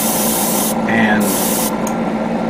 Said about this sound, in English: I'm spraying this at a very, very high rate.